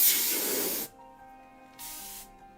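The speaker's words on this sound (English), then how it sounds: "I have compressed air and I'm not afraid to spray it in your general direction to scare you with the sound" Two short blasts of hissing spray from a compressed air can, the first about a second long and louder, the second shorter and softer, used to scare a cat indoors.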